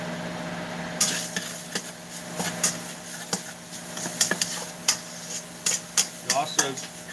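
Ground meat seasoned with minced garlic sizzles steadily in a pan, with intermittent clicks and scrapes of a utensil stirring it, close and moderately loud against a low background hum.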